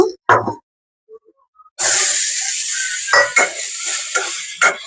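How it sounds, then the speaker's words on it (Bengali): Potatoes fry in the same hot oil just used for rohu fish. After a few sparse clinks, a loud sustained sizzle erupts and continues with occasional stirring scrapes and knocks against the pan. "এখন আমি একই তেলে আলুগুলো ভেজে নেব"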